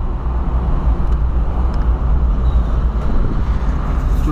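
Heavy road traffic with a truck approaching and passing close by, a steady loud low rumble of engines filling the whole stretch, with brief faint higher squeaks above.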